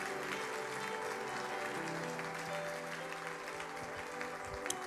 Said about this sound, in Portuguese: Vamos aplaudir ao nome do Senhor Jesus.